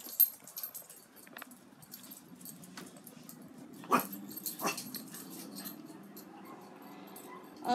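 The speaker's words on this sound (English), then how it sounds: "All the dogs are howling." Several dogs howl faintly in the distance outdoors, thin drawn-out cries rising and falling over a quiet background, with a couple of sharper yelps.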